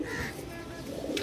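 Red-eye pigeons cooing in a loft, a low continuous murmur of soft overlapping coos, steady and close, with a brief brighter rustle near the end.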